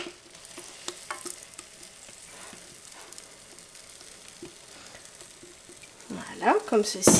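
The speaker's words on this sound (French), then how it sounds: "pour la cuisson de mon omelette, je viens la verser donc dans ma poêle chaude" Beaten egg for an omelette cooking in a hot frying pan, a soft continuous sizzle with light crackles and occasional stirring taps, growing louder near the end as someone speaks briefly.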